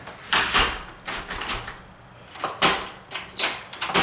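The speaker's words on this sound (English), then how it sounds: "the latch won't want to pop in when you try to open the door" A door latch fails to catch on its strike plate, giving several sharp clacks and rattles of metal hardware, close and loud, with brief quiet gaps between attempts.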